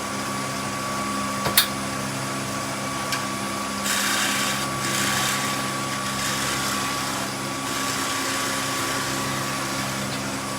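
A wood lathe turning a fishing float runs with a steady motor hum and whine, with a sharp tick near the start and brief bursts of tool noise against the spinning workpiece, heard alone.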